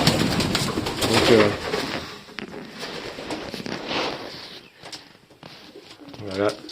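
Pigeons coo in low, rolling bursts at a breeding loft, near and clear, mixed with other birds and under someone speaking French.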